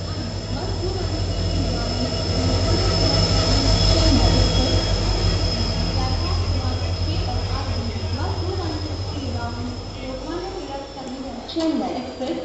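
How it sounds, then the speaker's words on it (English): The Chennai Express rolls into a platform at an Indian railway station with a deep, continuous rumble and squealing wheels, while voices or announcements sound over it. "Chennai Express is arriving shortly on platform number 6."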